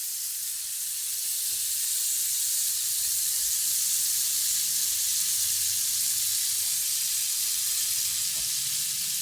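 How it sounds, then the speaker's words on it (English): Butter melts and steams in a hot pan with a constant, even sizzle that runs unbroken for several seconds. Faint soft taps sound underneath, and there is no speech. "The butter is melting really fast."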